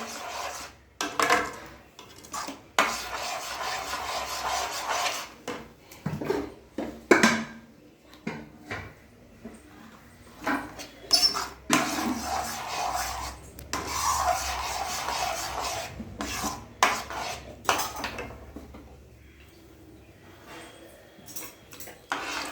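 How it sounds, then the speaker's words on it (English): A spoon stirring jaggery milk with cardamom in a pot for akkaravadisal, giving intermittent scraping and rubbing strokes against the pot with occasional clinks, close and moderately quiet, without talk. "now we just put up a few or as much as your preference a cardamom powder which we had, and we continue with the stirring."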